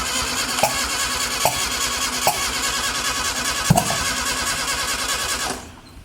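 A Volkswagen Golf engine converted into a golf cart cranks and starts after its solenoid is jumped, then runs on at a steady idle with periodic knocks before cutting off near the end; close and loud, no talk.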